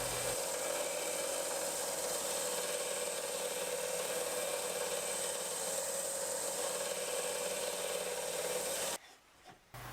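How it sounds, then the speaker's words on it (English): A sander grinds down a wooden part for a toddler's chair, a constant loud abrasive rasping whir that runs steadily for about nine seconds before cutting off into quiet handling sounds. "so I get it on the sander and just sand it down a bit so that it does fit"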